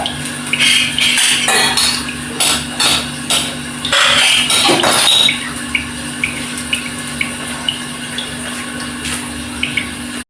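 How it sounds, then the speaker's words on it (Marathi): Washed steel utensils clink and clatter as they are stacked away in a home kitchen, with a steady hum from a water tap or pump in the background and sharp metallic knocks scattered across the stretch. "मी आता जे भांडे घासलेले होते ते आता लावून देते"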